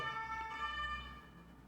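A Paris fire brigade siren wails steadily and tonally at a moderate distance, fading slightly toward the end. There is no talking.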